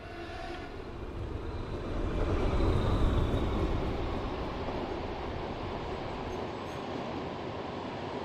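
A railcar passing by in Diesel Railcar Simulator, a continuous rumbling roar with rhythmic wheel clatter that swells to a peak midway and then holds steady at a slightly lower level.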